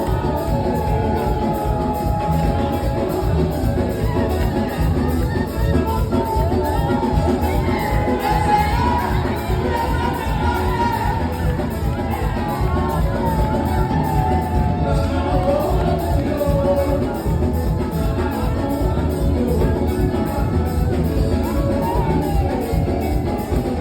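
A dense crowd at a public event with Chantal Biya shouts and yells over one another, a loud, unbroken roar with scattered whoops and raised voices throughout.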